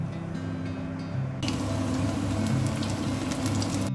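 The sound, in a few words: cabbage chicken pakora frying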